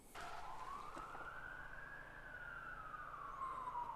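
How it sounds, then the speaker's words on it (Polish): A single ambulance siren wail rises slowly and then falls away, fairly faint and steady against a quiet background, during a windstorm blackout in Masuria, Poland. "ale karetka jest gdzieś tutaj blisko"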